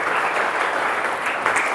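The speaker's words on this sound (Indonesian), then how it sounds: "Boleh berikan tepuk tangan bagi Tuhan ini." Applause breaks out in a church service, a dense, sustained clapping from a congregation that stays even and full throughout.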